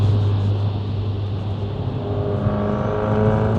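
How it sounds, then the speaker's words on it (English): A car engine on stock turbo and stock headers accelerates with a whistling turbo, a loud, close, rising drone as it pulls harder partway through, with no talk. "the turbo whistle from the downpipe, the J-pipe, it sounds like it's got a T51R mod"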